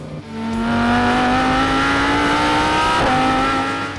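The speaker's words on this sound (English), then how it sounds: "The sound of this car is absolutely brilliant." A Lamborghini Huracán STO's engine roars loudly and climbs steadily in pitch as it accelerates, with a brief dip at a gear shift before pulling hard again.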